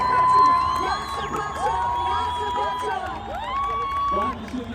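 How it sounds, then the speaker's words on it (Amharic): A crowd claps and cheers at a TikTok award ceremony, with whoops and shouts rising over loud music and a host's voice, the noise staying dense and close throughout. "ሞቅ ያለ ጭብጨባ ለሶስቱ"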